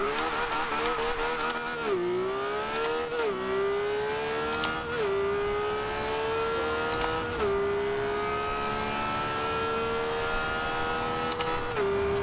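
A Lamborghini Veneno in the racing game Forza Horizon 2 roars at high revs, its engine pitch climbing steadily and dropping sharply at each of several gear shifts, loud and continuous throughout.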